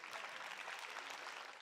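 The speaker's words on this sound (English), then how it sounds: "The moment drew a spontaneous round of applause on the trading floor at Nomura in Tokyo" Traders on the Nomura trading floor in Tokyo burst into brief spontaneous applause. A steady, dense patter of many hands clapping continues evenly for the whole short stretch.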